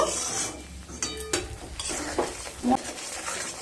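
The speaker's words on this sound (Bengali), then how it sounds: "টমেটো দিয়ে খুব ভালোভাবে মিশিয়ে নিয়ে আবারও লো স্টিমে 1 মিনিট ভালোভাবে কষিয়ে নেব।" Tomato and spices for a potol chingri curry are stirred and fried on low heat, with uneven scrapes and clinks of a utensil against the pan over a soft sizzle, close by, no talking.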